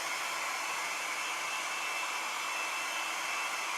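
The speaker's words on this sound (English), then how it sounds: "dry this with a hair dryer" Hair dryer blowing steadily on wet watercolor paper, a continuous even whoosh of moving air held at one level throughout, close and loud with no talking.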